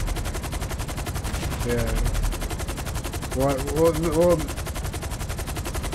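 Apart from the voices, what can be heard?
gunfire shooting at helicopters in a video game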